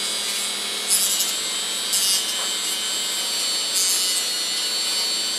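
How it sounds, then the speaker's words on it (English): Steady abrasive rubbing of sanding a plastic SIM card runs throughout, with a few brief louder scraping bursts standing out at intervals. No voices are heard. "Now I just sand it."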